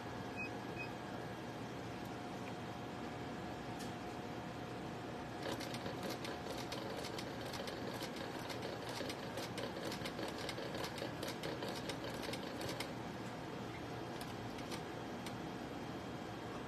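An industrial sewing machine stitches a cork wallet in bursts, with a faint, steady machine whir running throughout and a busier stretch of rapid stitching near the middle; no one speaks.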